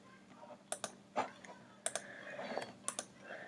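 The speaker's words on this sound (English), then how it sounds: "I'm going to click browse, click this." A computer mouse is clicked several times while images are uploaded into a design program, sharp close clicks in scattered small groups over a quiet background.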